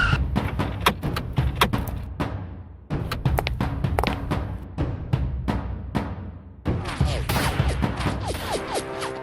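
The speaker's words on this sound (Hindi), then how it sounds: "पुलिस पर गोली चला रहा है।" Dramatized gunfire aimed at police comes as bursts of sharp, loud cracks and thuds in rapid clusters, broken by brief pauses, with a faint voice in the mix.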